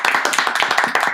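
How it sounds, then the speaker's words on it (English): A brief burst of rapid, close clapping from a few hands at a wrestling show, quick regular claps lasting about a second. "Can we have a round of applause for Rhea Ripley, please?"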